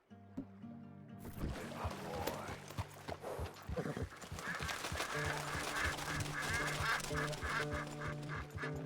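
Quacking, duck-like birds call repeatedly over clopping hooves and a horse's whinny in the video game Red Dead Redemption 2, a busy, close mix of animal sounds.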